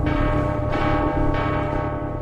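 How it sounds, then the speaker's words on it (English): A deep palace clock-tower bell strikes toward midnight, with two or three heavy tolls blending into a sustained, humming resonance that stays loud and close throughout. "the deep sound of a bell echoed through the palace. The clock was striking midnight"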